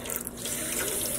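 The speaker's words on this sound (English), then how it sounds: "we are going to add some more water. I'm adding it to this end" Water poured onto a knitted sock blank in a dye pot, a steady splashing trickle with a slight rushing hiss, close and alone.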